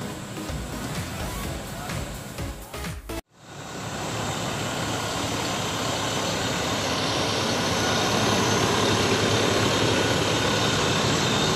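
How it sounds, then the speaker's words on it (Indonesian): A steady, loud engine roar from a Skylander aircraft that starts abruptly after a short break and holds, gradually building in intensity. "masih menghidupkan mesin"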